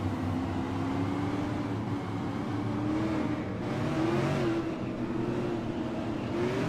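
Super late model race cars roar around a track in a steady, sustained engine drone, with rising and falling revs as the pack circles, heard at a distance with no speech over it.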